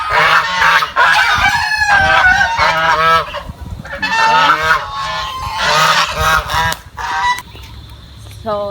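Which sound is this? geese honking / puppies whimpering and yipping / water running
geese honking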